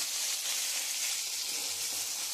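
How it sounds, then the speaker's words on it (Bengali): Chopped onion frying in hot oil seasoned with nigella seeds while cooking a spicy pointed gourd dish, a steady, dense, even sizzle with no breaks, close and fairly loud throughout. "আমি একটু লাল লাল করে পেঁয়াজটা ভেজে নিয়েছি"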